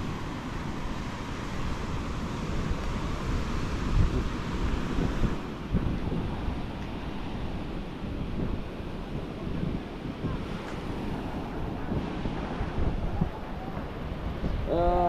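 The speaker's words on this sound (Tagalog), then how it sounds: "Laki na naman ng alon." Big ocean waves crash and roar under strong gusting wind, a loud, steady wash of noise with buffeting on the microphone.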